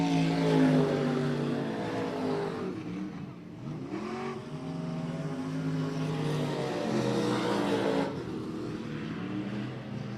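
Race cars circling the I-37 Speedway track, a loud, steady engine roar that swells and dips as the cars rev through the turns, with no talk over it.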